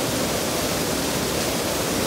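The San Esteban river flows in a steady, broadband rushing roar, close and unbroken, with no voices.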